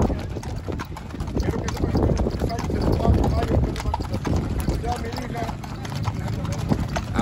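Horse hooves clip-clop in a steady rhythm during a horseback ride outdoors, with wind buffeting the microphone and people talking over it.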